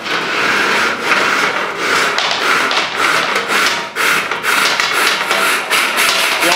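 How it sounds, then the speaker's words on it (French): A chimney sweeping brush scrapes up and down inside a stove flue pipe, a loud, continuous rasping with rhythmic strokes and occasional knocks as it is worked along the metal pipe. "Là on voit bien, on entend bien que ça gratte."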